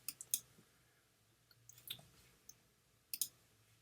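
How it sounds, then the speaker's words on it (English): A computer mouse clicks softly and close by in a quiet room: a few scattered single and double clicks, with no talking. "So I click on this and I download it"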